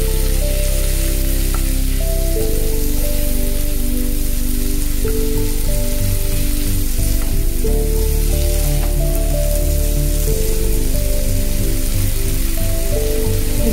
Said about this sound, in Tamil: இப்போ இது கூடவே 3 சின்ன சைஸ் தக்காளி பொடியை நறுக்கி போட்டு நல்லா சார்ட் அவுட் பண்ணுறோம்.